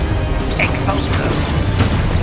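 The Expulso explosion spell goes off in the video game Hogwarts Legacy, a loud, dense roaring burst of broadband noise that fills the whole moment with crashing, rumbling energy.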